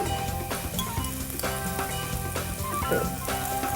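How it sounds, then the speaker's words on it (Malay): Garlic sautéing in a pan for a pineapple-sauce sea bass dish gives a steady, close sizzle with light stirring, continuous and fairly loud throughout, with music-like tonal bands underneath and no talking. "Bawang putih juga ditumis sekali."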